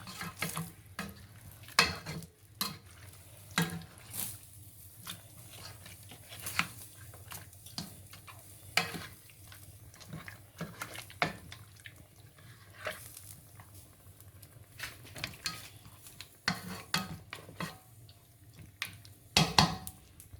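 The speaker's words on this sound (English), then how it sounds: "So I'm going to stir everything together." Rice and beef sauce are stirred in a pan, a spoon scraping and knocking against the metal in repeated uneven strokes over a soft sizzle, close and clear with no talk.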